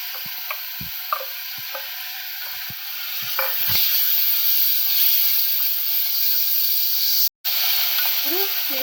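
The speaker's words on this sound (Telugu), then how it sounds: "ఇప్పుడు మనం కట్ చేసి పెట్టుకున్న ఉల్లిపాయలు వేద్దామండి." Chopped onions hit hot oil already seasoned with turmeric for a mushroom curry, giving a steady, fairly loud hissing sizzle that swells partway through, with a few light utensil knocks near the start.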